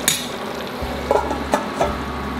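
Chicken curry with fresh curd cooking in a pan, a steady sizzle and bubbling with a few soft stirring scrapes of a utensil, close and continuous, no voices.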